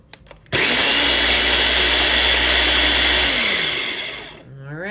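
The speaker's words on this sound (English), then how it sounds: "we'll blend for 1 more minute" A kitchen blender whirs loudly and steadily for about three seconds, blending a preschool foraged-dandelion recipe, then spins down toward silence; a voice is faintly heard at the start.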